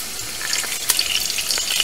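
Oil and ghee sizzling steadily in a hot pan, a continuous bright crackle with small pops, close and fairly loud, no talking.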